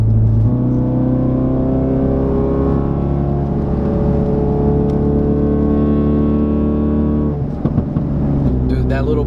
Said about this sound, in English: Dude, that little backfire pop